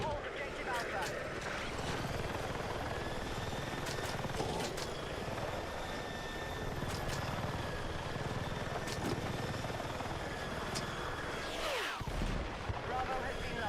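A helicopter in a military shooter video game drones steadily throughout, a dense rotor and engine roar with faint tonal whine, briefly dipping near the end.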